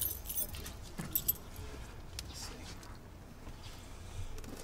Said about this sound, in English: You got a key? Got some keys here.